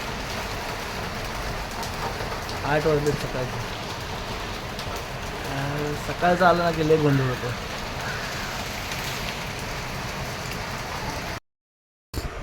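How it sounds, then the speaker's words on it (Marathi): Steady Mumbai rain hisses throughout while a person talks over it, with a brief break near the end. "पावसाला सुरुवात झाली आहे"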